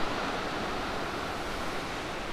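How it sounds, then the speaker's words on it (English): Heavy water pours over Nachi Falls in Japan, swollen by winter snowmelt and recent rain: a dense, steady broadband roar with no breaks, continuous throughout and with no voices. "All the snow melt from winter and recent rains are all pouring over the waterfall."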